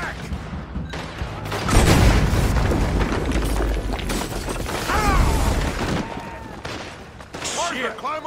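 A large explosion erupts in a Red Dead Redemption 2 game scene, a heavy boom followed by rumbling blasts and debris under gunfire-like crackle, with voices talking and shouting over the din.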